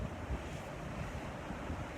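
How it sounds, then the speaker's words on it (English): Strong wind blows steadily outdoors during a stormy open-air meditation, a constant close rushing roar with low gusty rumble and no voices. "I don't know if you could hear the wind howling as we went through that."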